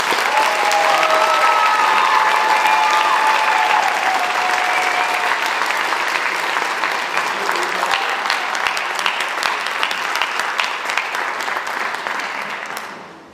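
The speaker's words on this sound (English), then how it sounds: "Let's give these scholars one other big round of applause." An audience at a senior awards ceremony gives scholars a big, sustained round of applause, dense steady clapping that fills the room and slowly tapers off at the end.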